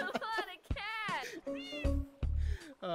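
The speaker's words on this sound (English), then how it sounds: "It's a cat army, baby." Several cats meow in a video game, a burst of overlapping, drawn-out and rising calls in quick succession, close and loud with almost no gaps.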